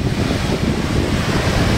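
Open Arabian Sea surf under monsoon wind, a dense continuous roar of waves with heavy wind buffeting close to the microphone.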